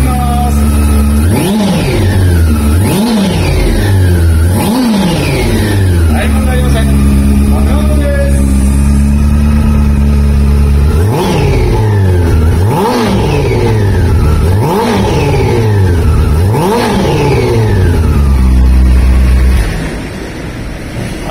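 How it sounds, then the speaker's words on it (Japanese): A Honda CB400 Super Four VTEC Revo motorcycle engine starts and idles, then revs up repeatedly in sharp, rising bursts, loud and close, before settling back to a steady idle. "ではですねエンジン始動いきたいと思います"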